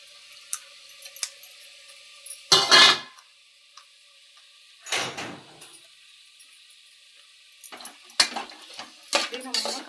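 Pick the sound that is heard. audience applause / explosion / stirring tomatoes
stirring tomatoes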